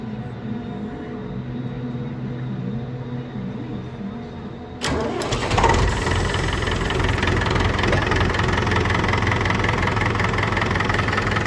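A David Brown 1490 tractor engine, unstarted for two or three weeks, catches abruptly about halfway through after a quieter stretch of background noise, then settles into a loud, steady running rumble close by.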